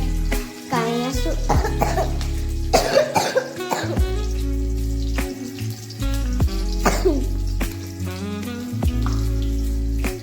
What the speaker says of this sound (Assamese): মোক কাহ হৈ যায় সেইকাৰণে মাজে মাজে কাহি আছোঁ